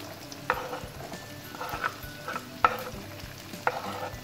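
Onions browning in a pan, about to be joined by zucchini and squash blossoms over high heat: a steady soft sizzle with four sharp stirring scrapes spaced through it, close and alone with no talk.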